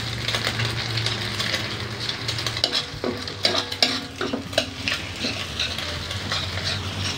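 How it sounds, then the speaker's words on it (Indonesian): Eggs are stirred in a sizzling frying pan over a village cooking fire, a spatula scraping and clinking against the metal in irregular bursts over a steady fry hiss. "Dikocek-kocek telurnya tuh."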